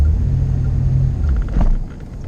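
A 1986 Corvette with a manual clutch rumbles deeply and loudly at low revs as it pulls away, the engine note briefly surging midway before settling, with no talk.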